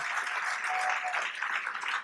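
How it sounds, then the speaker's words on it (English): Town hall audience clapping for someone at the back of a housing update meeting, a brief, fairly quiet patter of applause from a scattered crowd, heard from some distance. "Give her applause in the back."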